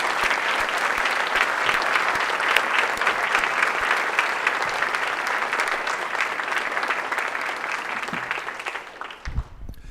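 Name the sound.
audience applause for promoted professors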